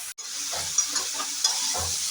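Pui metuli vegetables hiss and sizzle in a hot pan with a continuous frying crackle, broken by a few scraping stirs and light clinks of the utensil.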